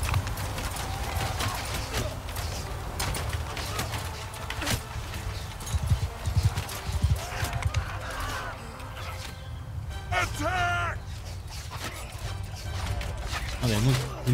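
Horse hooves in the video game Mount and Blade II Bannerlord, rhythmic clip-clop of a mounted horse moving under busy game noise and someone speaking, moderately loud and close.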